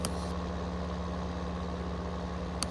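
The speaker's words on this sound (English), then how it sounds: "You'll hear his engine idling if you get down close to the gas pumps." A truck engine idles near gas pumps on a farm in a video game, a steady low hum running unchanged throughout at moderate level with no talk.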